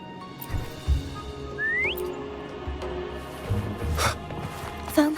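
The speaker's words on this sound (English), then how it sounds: "Try whistling." A short rising whistle calls Foam in the video game Wuthering Waves, a single clear upward-sliding note heard over game background sounds and brief thuds.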